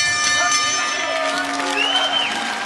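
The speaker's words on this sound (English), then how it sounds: "Generous round of applause for both of them." A Bellator MMA arena crowd applauds and cheers steadily after a fight, a continuous wash of clapping and voices with an announcer speaking over it.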